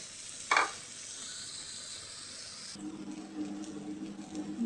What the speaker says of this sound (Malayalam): നമ്മുടെ സോയാബീന് ഫ്രൈയായി വരുന്നുണ്ട്.